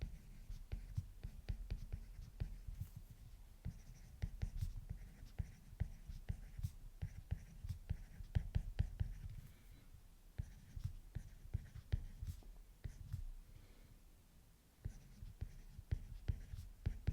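Pen or pencil writing on paper during an English workbook lesson, a steady stream of soft scratching strokes and taps, close and quiet, with brief pauses and no talking.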